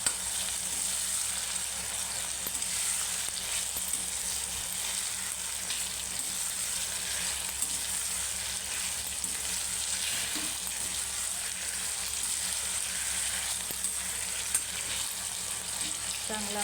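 Masala with red chilli powder and turmeric fries in a pan for soybean biryani, a continuous close hiss and sizzle with soft stirring scrapes running throughout.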